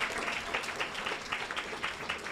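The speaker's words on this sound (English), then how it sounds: "can we just give them a round of applause for joining us" An audience claps at an International Women's Day event after guests are welcomed. Steady, moderately loud applause of many hands runs for the whole stretch, with no one talking over it.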